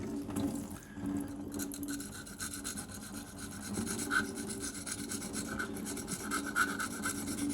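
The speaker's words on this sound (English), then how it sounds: "by sanding this over a tap" Steady rasping rub of wet sanding a resin model part under a running tap, continuous and close, with a faint wash of running water underneath throughout.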